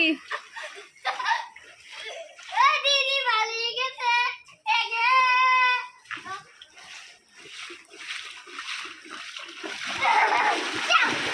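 Children splash and slap at floodwater around a flooded home, making repeated close splashes while kids giggle and chatter and an adult talks over them.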